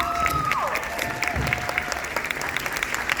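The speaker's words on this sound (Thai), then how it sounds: "ขอเสียงปรบมือทีมนักแสดงของเราทุกท่านด้วยครับ" Dense applause from an audience at a film Q&A, clapping for the cast, steady and fairly loud throughout with a few whistles and light cheering mixed in.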